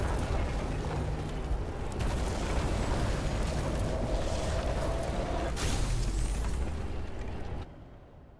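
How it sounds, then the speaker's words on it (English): Flooded transformer exploding in a video game: a long, rumbling blast and roaring fire noise, with bursts of crackling around two and six seconds, loud and steady before cutting off abruptly near the end. "Someone flooded the transformer and it caught fire. Cable acted like a fuse. That's what caused the explosion."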